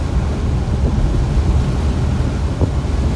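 A 1949 Cadillac cruising at about 50 in top gear, heard from inside as a steady, loud, low rumble of engine, road and wind noise that holds even throughout.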